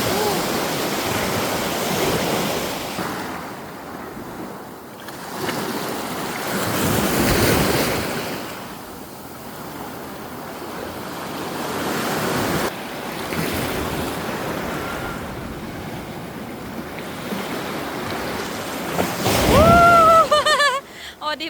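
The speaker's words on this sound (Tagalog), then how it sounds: "Ang laki ng waves." Big ocean waves breaking on a beach, loud and close, with repeated surges and wash of surf mixed with wind buffeting the microphone.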